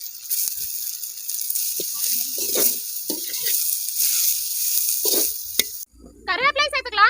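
Onion sizzling and frying in oil with cabbage in a pan, a steady close hiss with soft stirring scrapes, ending with a short burst of another sound.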